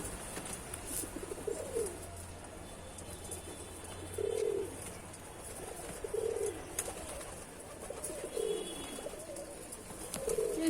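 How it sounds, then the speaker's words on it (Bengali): Pigeons cooing on a rooftop beside a water bucket, several soft, rhythmic coo phrases repeating at close range over a steady outdoor background hum, with no talking. "এই দেখো পাখিটা একটা পায়রা"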